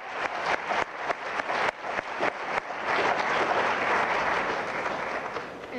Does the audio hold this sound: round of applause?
yes